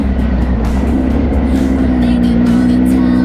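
An off-road motorcycle powering out of a turn during an off-road riding weekend, its engine a loud, close, continuous drone that holds steady and climbs slightly in pitch, with no voices.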